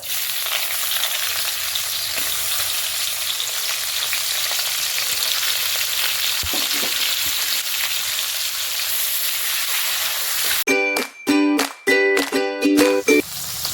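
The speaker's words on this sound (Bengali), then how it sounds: "লাল করে ভাজা হইতেছে" Steady hiss and crackle of onions frying in hot oil, loud and close, with a few bright clinking taps of a utensil near the end.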